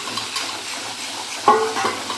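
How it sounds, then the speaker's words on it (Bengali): Spice paste fries in a pan with a soft continuous sizzle, broken by a sharp clink of a spoon against the metal and a few light scraping stirs. "ঠিক আছে ভাজা হচ্ছে ভালো করে ভাজা হোক"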